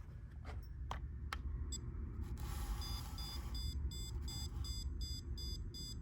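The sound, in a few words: stud finder beeping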